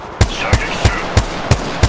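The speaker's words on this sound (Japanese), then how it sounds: "射撃中。" Gunfire in the mobile game Apex Legends Mobile, six evenly spaced sharp shots roughly a third of a second apart, loud and close over a steady background hum.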